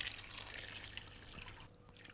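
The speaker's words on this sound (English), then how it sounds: "I'm just going to add some water" Water poured from a vessel onto lamb bones, chopped onion, bay leaf, peppercorns and salt for stock, a faint, brief splashing trickle that tapers off.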